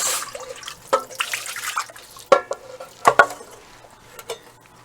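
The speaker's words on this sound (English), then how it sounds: "I'm going to pour my dye into the pan." Wool dye is poured from a jar into a dyeing pan at a kitchen sink. Liquid splashes and trickles come in short, uneven bursts with a few sharp clinks of glass against metal in a quiet room.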